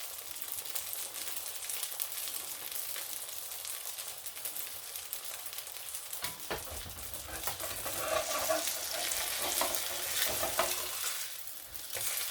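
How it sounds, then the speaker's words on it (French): Msemen flatbread browning in a pan, a continuous soft, hissing sizzle of fat heard up close, with a brief rustle midway and the frying growing slightly louder toward the end. "Je la laisse bien dorer."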